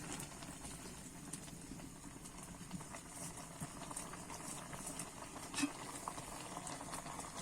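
A pot of olive pickle bubbles and is stirred by shaking the pot, a soft continuous simmer with faint scraping and clinks rising here and there, quiet and without speech.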